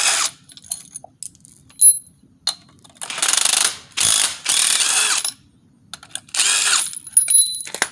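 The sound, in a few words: ratchet wrench undoing crank pulley bolts with 11 mm socket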